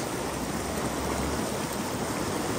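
Water flowing hard at a waterfall, a steady, loud, unbroken roaring wash that fills the whole clip with no voices heard.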